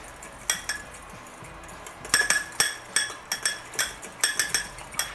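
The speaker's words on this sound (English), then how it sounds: "Give this a quick whisk." An egg whisked in a bowl while making huckleberry pie, with quick, close metallic clinks against the bowl in short rhythmic bursts and brief pauses between them.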